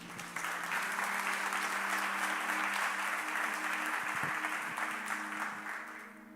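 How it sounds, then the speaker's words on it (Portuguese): A church congregation at a Portuguese-language service claps together in a full, sustained round of applause that holds steady and then tapers off slightly at the end. "Vamos dar um aplauso ao Senhor por isso."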